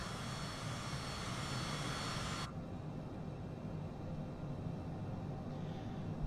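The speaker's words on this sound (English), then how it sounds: "It's a bit of a beast of a jet, little private jet, yeah." Steady broadband engine roar inside a small private jet climbing out after takeoff from Cork, a continuous loud cabin drone with its high hiss dropping away partway through.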